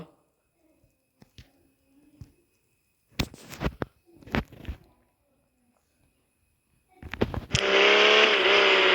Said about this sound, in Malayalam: വണ്ടിയുടെ സൗണ്ടാണ്.